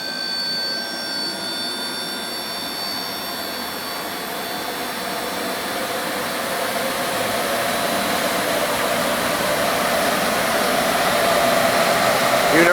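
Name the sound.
Torit 6600 CFM Powercore dust collector running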